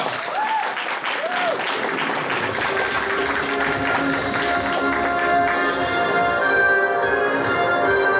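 An audience at a fan convention game show gives a loud, sustained round of applause and cheering that builds and holds, with voices and whoops mixed into the clapping.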